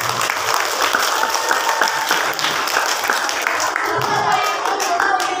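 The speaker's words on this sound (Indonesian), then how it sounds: "Tepuk tangan yang mulia" At a mosque gathering for 1 Muharram, the Islamic new year, the crowd claps in a dense, steady round of applause, with voices mixed in underneath.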